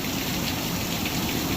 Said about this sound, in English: Wow, this is heavy rain.